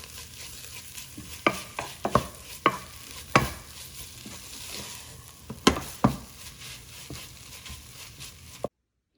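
Chunks of fish go into chili powder masala frying in a pan, then get stirred with a series of sharp spoon scrapes and knocks over a soft, steady sizzle, with no one talking.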